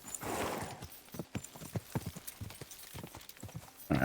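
Horse hooves clip-clop at a steady uneven gait in the medieval game Kingdom Come: Deliverance II, distinct and fairly close over low ambience, with a louder burst at the end.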